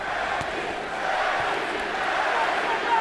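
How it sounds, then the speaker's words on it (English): Boxing crowd in an arena rhythmically chanting Manny, Manny, Manny at a Pacquiao versus Bradley fight, a broad roar of many voices, fairly distant and steady. "The chant you hear is Manny, Manny, Manny."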